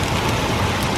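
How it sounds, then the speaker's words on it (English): Steady, dense rain mixed with pea-sized hail pours down close by, a continuous broadband hiss and patter with no pauses. "I guess now it's raining. They're like pea-sized hail."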